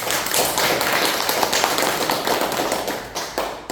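Audience applause at a talk, a crisp, close burst of many hands clapping that holds steady for several seconds and then tapers off near the end.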